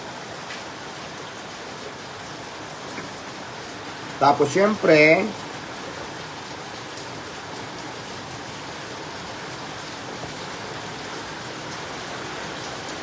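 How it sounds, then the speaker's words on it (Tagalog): Steady heavy rain hisses throughout, while a person speaks briefly in the middle over the downpour. "Ang lakas ng ulan, guys."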